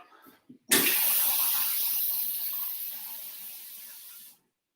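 Water gushes from a tap in a steady hiss for several seconds, then shuts off abruptly.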